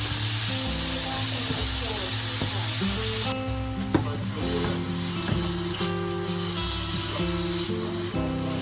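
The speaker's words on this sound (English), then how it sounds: "Add in the mince to the sweated aubergine and mushrooms." Beef mince browns in a pan with sweated aubergine and mushrooms, a loud continuous sizzle with occasional stirring clatter, a brighter hiss at first then a slightly calmer fry, over faint background music.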